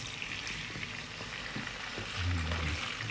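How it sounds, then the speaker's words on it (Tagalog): Sweet potato slices frying in hot oil, a soft continuous sizzle with faint crackles that swells slightly toward the end, heard alone at low volume. "So start muna tayo sa ano mga pag-prito muna ng sweet potato or kamote."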